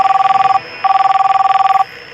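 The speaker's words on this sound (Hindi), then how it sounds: "अखिल ने जेब से मोबाइल फोन निकालकर देव को कॉल लगाई" A mobile phone call rings out unanswered, the ringback tone sounding as two loud, clear pulsing bursts separated by a short pause, with no talking.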